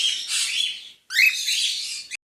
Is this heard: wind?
no